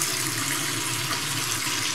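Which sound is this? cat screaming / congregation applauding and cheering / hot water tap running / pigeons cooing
hot water tap running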